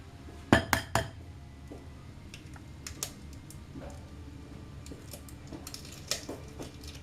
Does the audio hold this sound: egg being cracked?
yes